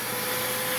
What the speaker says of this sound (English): run a quick vacuum and see if we can